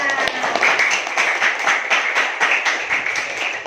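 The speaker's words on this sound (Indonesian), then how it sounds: "tepuk tangan untuk Redina" Applause in a classroom coaching session, a small group clapping steadily throughout with dense overlapping claps at moderate loudness, no talk over it.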